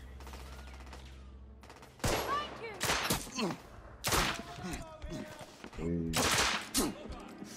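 Gunfire in The Order: 1886 cracks out in several loud separate bursts with echoing tails, a player talking briefly between the shots.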